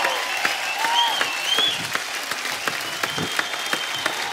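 A studio audience on a Hindi comedy talk show breaks into loud, sustained applause to welcome actor Akshay Kumar, steady clapping with a few whistles and cheers over it, no talking.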